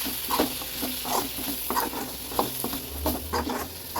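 Coriander powder dry-roasted in a pan for mutton sambar, heard as repeated close scraping stir strokes over a faint steady sizzle, with no voices.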